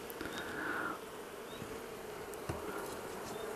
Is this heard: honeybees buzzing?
yes